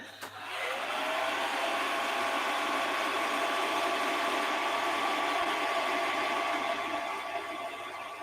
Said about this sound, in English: just going to blast them with a hairdryer